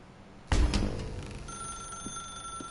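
A telephone rings in the video game The Stanley Parable, starting with a loud sudden clattering bell burst that decays into a sustained ringing tone with faint knocks, nearby and alone.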